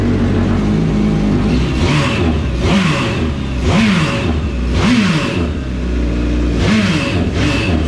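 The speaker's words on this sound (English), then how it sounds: "I want to run the engine for a couple seconds" A jet ski engine idling and revving in repeated bursts, several loud rising throttle blips in a steady rhythm over a constant running drone, heard close.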